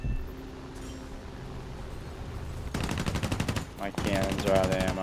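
Rapid bursts of aircraft cannon fire from a video game dogfight, two loud sustained volleys of fast repeated shots following a quieter stretch of engine drone.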